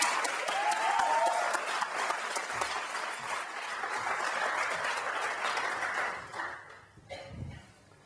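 Audience applause and cheering welcome the most decorated Olympic athlete, Michael Phelps, onto an interview stage: steady, dense clapping from a crowd that holds for about six seconds before thinning out near the end.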